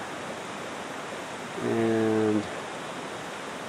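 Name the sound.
overflowing creek water flowing down a flooded road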